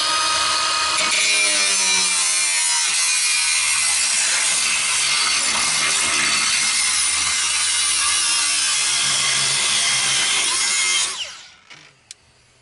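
A Milwaukee power grinder cuts through metal with a loud, steady high-pitched whine that holds for about eleven seconds, then winds down and stops, followed by a few clanks.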